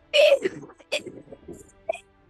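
A voice imitates a gurgling sound in a few short, breathy vocal bursts, close and fairly loud, with no other sound around it.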